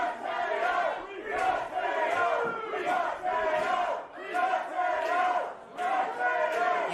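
Wrestling arena crowd chanting in rhythmic waves, large and loud, with alternating surges that suggest two sides trading chants back and forth for the whole stretch.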